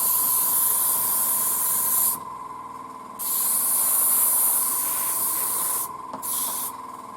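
An airbrush sprays primer onto a 1:35 scale ICM Panzerspähwagen P204 (f) armoured car model, a close, steady hiss broken by two short pauses, with no talking.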